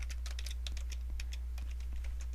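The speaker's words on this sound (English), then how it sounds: "and I can type in here" Fast, steady clicking of keys on a computer keyboard while a new shared Google Drive document is filled in, the taps light and close over a constant low hum, with no talking.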